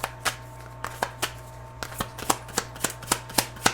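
A tarot deck shuffled by hand, a run of crisp riffling card snaps repeating at a quick, slightly uneven rhythm, close and clear with no talk.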